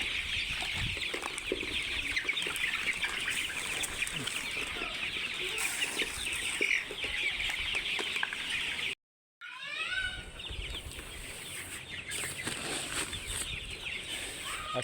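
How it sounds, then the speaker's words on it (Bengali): A flock of 30-day-old Sonali chickens on a poultry and dairy farm clucks and chirps continuously at close range, a dense busy chorus with wing flapping, briefly cut by a moment of silence midway before the clamor resumes. "আজকে 30 দিনের সোনালী মুরগি।"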